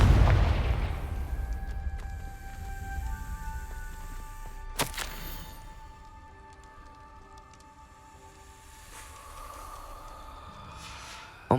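A fiery Confringo blast spell in the Hogwarts Legacy video game, a sharp explosive burst midway, ringing out over a low rumbling game soundscape with lingering tonal hum.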